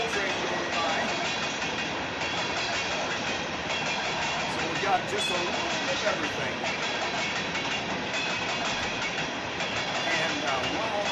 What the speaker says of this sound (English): now we have a coal train going by